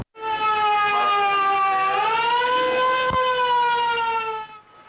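A loud, sustained air raid siren from Ukraine's old Soviet-era civil warning system holds a steady harmonic wail, with a slight pitch dip and rise partway through, fading out near the end.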